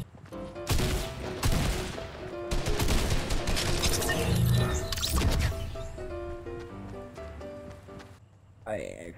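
Gunfire in the video game Fortnite, loud clustered volleys of shots and impacts in several bursts over game music, tapering off before a final hit, with a voice talking at times.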